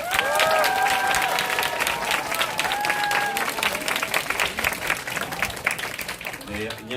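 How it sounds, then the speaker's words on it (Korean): An audience at a business seminar applauds to welcome a speaker, with loud, dense clapping mixed with cheers and whoops that gradually thins toward the end. "큰 박수 부탁드립니다"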